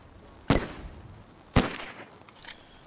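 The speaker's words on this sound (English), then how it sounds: "half track just spotted us and is firing on our building." A half-track fires on a building in the Post Scriptum video game, heard as two sharp, heavy blasts about a second apart, each with a short rumbling tail, and a fainter crack follows.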